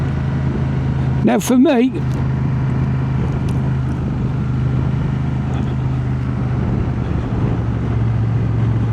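A Honda Transalp 750 motorcycle climbs a hill with its engine holding a steady, loud low drone and wind rush, while a rider speaks briefly over it near the start.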